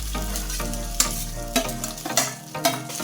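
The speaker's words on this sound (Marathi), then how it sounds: "बटाटा कट करून घेतलेला आहे तो घालून घेऊया फोडणीमध्ये" Cut potatoes sizzle loudly as they hit hot oil tempering with turmeric, with a few sharp clinks and scrapes of a spoon stirring the pan.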